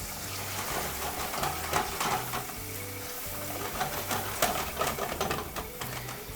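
Whole tomatoes seasoned with salt and cane sugar bubble and sizzle in a pan over medium-high heat as tomato sauce for pasta, a steady close frying hiss with occasional stirring scrapes and no talk.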